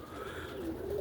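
Roller pigeons in a kit box give soft, low cooing, a faint continuous murmur with no talk.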